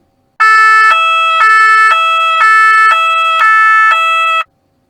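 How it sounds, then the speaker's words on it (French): An ambulance siren blares loud and close, alternating between two tones in a steady hee-haw pattern for about four seconds, then cuts off. "Ce son, c'est la sirène d'une ambulance."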